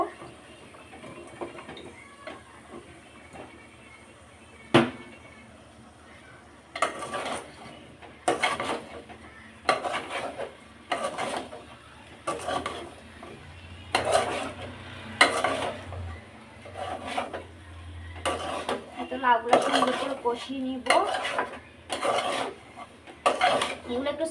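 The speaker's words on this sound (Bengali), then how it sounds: "লাউগুলো এখন কষাতে থাক" Bottle gourd with shrimp is stirred in a frying pan, a soft sizzle under repeated scraping spoon strokes against the metal that grow busier and louder toward the end.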